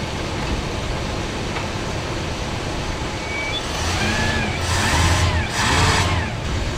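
A 1985 Dodge D150 pickup with a 727 automatic transmission idles steadily up close, its engine note swelling slightly as the gears are shifted through, with a few faint clunks and higher tones near the end.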